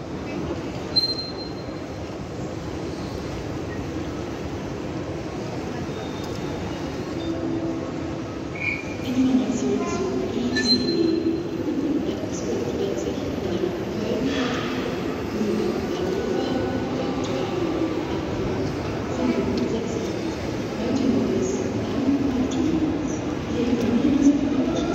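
A train rumbles and rolls into Berlin Hauptbahnhof with faint squeals, a continuous low roar over several seconds, with crickets chirping faintly in the background.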